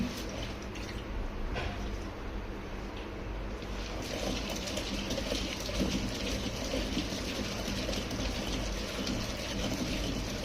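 A wet grinder churns urad dal batter with a steady, continuous mechanical whir and watery slushing, moderately close and unbroken, with no talk.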